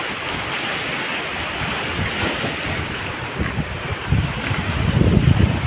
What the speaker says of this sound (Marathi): एकदम जोरात वाढायला लागली लाट